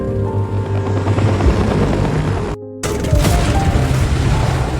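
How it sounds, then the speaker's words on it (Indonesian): A loud, close helicopter roars with rumbling rotor noise, briefly cut off before resuming with heavy thumping. "Jinman datang bersama helikopter lalu menyelamatkan mereka"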